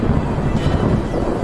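Thunderstorm over the Mara Serengeti plains: a steady, heavy low rumble of thunder and rain-like wash fills the whole stretch at close, loud level, with no talking.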